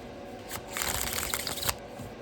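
Tarot card deck being shuffled by hand, a close, brisk riffle of papery flutters that builds to a rapid burst and then stops, with no talk over it.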